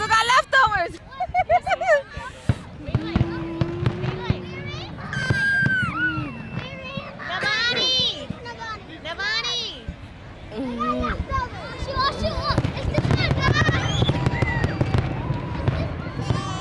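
Fireworks over Orchard Beach in the Bronx, a string of booms and crackles near and far across the whole stretch, under the loud chatter and shouts of a crowd and children.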